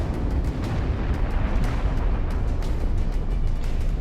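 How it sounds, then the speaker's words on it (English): Air-strike bombs pound a dug-in strongpoint, a dense, continuous low rumble of explosions with repeated sharp bursts layered on top, loud and sustained with no pauses. "Air support had to be called in. The bombs hit their targets with precision."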